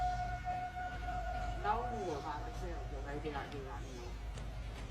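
Eerie howling drifts out of dark woods at night, rising and falling in wavering, siren-like wails that sound fairly distant over a steady low background hum.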